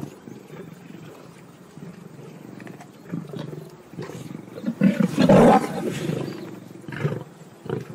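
A white lioness and other lions in South Africa let out deep, rumbling roars that swell to one loud, close outburst in the middle, then fade into low grunts.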